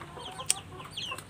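Soft clucking from a native mother hen amid faint chirping of her two chicks, with a sharp click partway through; quiet and close.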